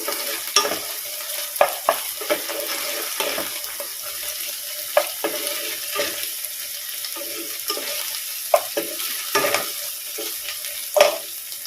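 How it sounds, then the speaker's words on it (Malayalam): Sliced okra with a pinch of salt fries in a pan, giving a soft, steady sizzle broken by repeated scraping and stirring strokes at an uneven rhythm, close and moderately loud. "ചേർത്തിട്ടൊന്ന് ഫ്രൈ ചെയ്തെടുക്കാം"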